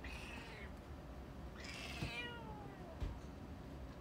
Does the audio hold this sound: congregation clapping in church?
no